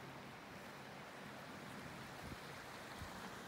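A river rushes steadily beside a winter forest campsite after a wet night, a constant broadband wash of flowing water, fairly faint and without speech.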